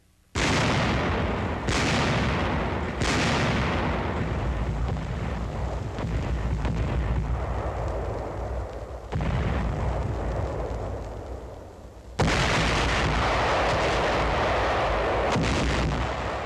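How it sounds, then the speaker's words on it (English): Hundreds of artillery guns firing on the encircled city of Aachen in October 1944: heavy, booming blasts roll one after another, loud and continuous with rumbling echoes between. "The ultimatum is rejected and hundreds of guns open fire on the encircled city."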